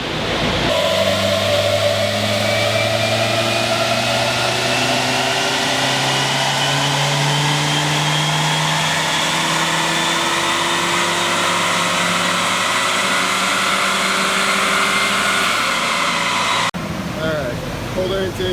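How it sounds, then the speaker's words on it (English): A Nissan Juke engine with a cold air intake runs a full pull on a dyno, a loud sustained roar whose pitch climbs steadily for about sixteen seconds before cutting off abruptly. "Cold air intake pull 3."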